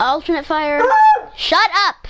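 A pet dog named Cleo barks repeatedly indoors, sharp close yips and woofs, while someone talks over it and scolds the dog during video game play.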